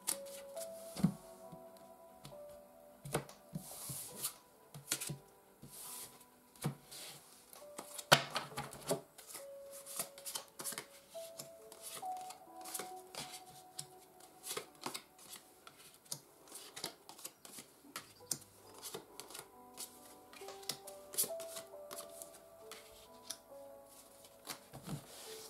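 Tarot cards are shuffled by hand in a quiet room, with continuous soft riffling, flicking and tapping of cards in irregular bursts over a long stretch, close and fairly faint, with no talk.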